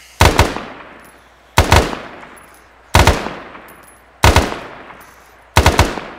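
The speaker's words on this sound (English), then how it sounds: "when he's done, he'll do some suppressing fire where he fires more rapidly." A rifle fires in a video game: five evenly spaced bursts, each made of two or three quick, sharp cracks with a decaying echo tail. The shots are loud and near, with no voices.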